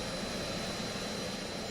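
An Embraer 110 engine in a flight simulator game gives a steady, even whining roar throughout, with no talking.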